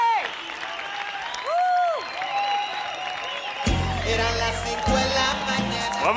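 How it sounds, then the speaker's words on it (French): Studio audience applause and cheering for Joe on a French-dubbed Colombian TV show, rising over music and a host's voice, with louder crowd noise building in the second half. "Et on applaudit le grand Joe."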